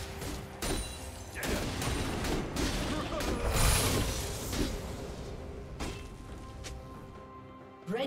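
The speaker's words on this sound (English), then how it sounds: "Red team's turret has been destroyed." A turret being destroyed in League of Legends: a string of sharp crashes, thuds and mechanical impacts over several seconds, with clustered blasts in the middle and scattered hits afterward, amid game ambience and a voice announcement.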